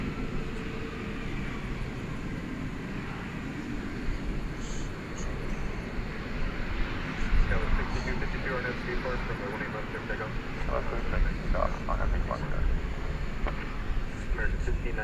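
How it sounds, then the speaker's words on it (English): An American Airlines Airbus A319 departs DFW Airport at night, its jet engines a distant continuous roar swelling slightly over time beneath steady talk. "A319 off to San Luis Potosi in Mexico"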